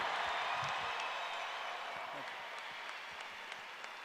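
Crowd applause filling a basketball arena at a sendoff for a Big Ten regular-season champion men's team, with dense, steady clapping throughout, slowly tapering toward the end.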